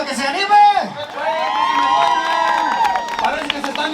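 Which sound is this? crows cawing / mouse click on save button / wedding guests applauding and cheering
wedding guests applauding and cheering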